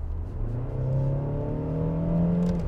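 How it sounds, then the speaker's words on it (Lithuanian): Mercedes-Benz GLB (2020-) in sport mode, its engine note piped through the cabin speakers: a steady, loud rising drone with climbing harmonics, like a revving engine, with no talk. "Atrodo, kad su tikru AMG varikliu važiuoju, nors negreitėja šitas automobilis taip, kaip jisai skamba"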